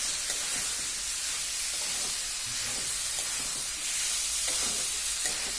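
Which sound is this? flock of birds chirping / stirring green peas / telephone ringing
stirring green peas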